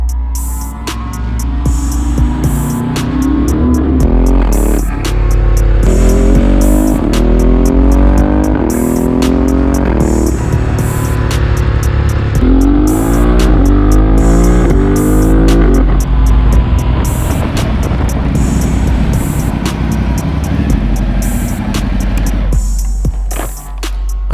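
A Ducati Multistrada 1260S motorcycle is ridden on the road, its loud engine droning steadily and climbing in pitch several times as it accelerates through the gears, with wind rush on top and a brief drop near the end.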